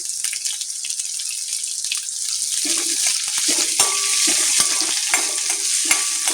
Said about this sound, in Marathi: कांदा छान लालसर परतवून घ्यायचा.